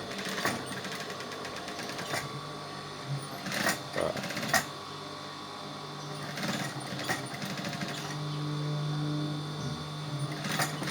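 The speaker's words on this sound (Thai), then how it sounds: "จักรตัวนี้เป็นจักรที่ได้ การ ปรับปรุงมาสำหรับผ้า วนโดยเฉพาะเลย" A sewing machine modified for stitching rag rugs runs steadily with a close, continuous whirring drone, broken by occasional sharp clicks and knocks of the fabric being worked.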